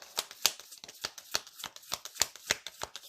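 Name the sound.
shuffling tarot cards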